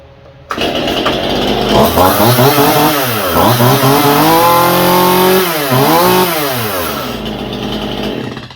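A Stihl MS171 chainsaw, freshly cleaned at the carburetor, roars into life close by and runs loud and steady, revving up and down in several throttle swells before settling back to a high idle, with no voices.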